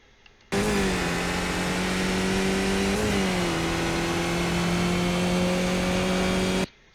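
A Skip Barber race car in iRacing drones loudly and steadily at Winton, its engine note dipping briefly at a gear change before holding a high, even pitch, then cutting off abruptly.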